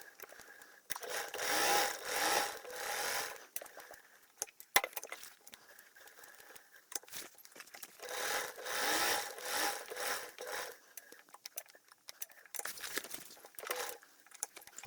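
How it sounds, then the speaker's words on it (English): A domestic sewing machine stitches around a fabric rectangle for a beginner crossbody flap bag, running in several bursts of a few seconds each with short pauses between, at a moderate level and with no talk. "we're just going to sew all the way around that rectangle"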